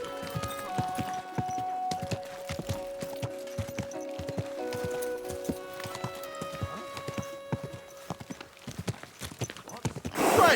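Horse hooves clip-clop steadily on a hard road in Kingdom Come Deliverance II, a close, even rhythmic trot over a soft ambient musical drone, without speech.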